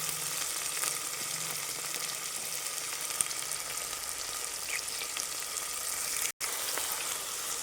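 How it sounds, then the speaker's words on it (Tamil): Chopped onions fry in oil after mustard seeds have popped, cooking toward golden for tomato rice. The sizzle is a steady, dense crackle that holds evenly throughout, with no talking. "இது கொஞ்சம் பொன்னிறமாக நம்ம வறுத்து எடுத்துக்கலாம்"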